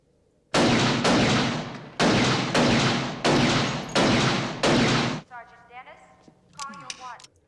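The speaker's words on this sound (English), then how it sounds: "he did like six shots or so" About six loud gunshots from a movie scene, sharp booming blasts spaced roughly evenly a second or so apart, followed by scattered voices and noise from the scene.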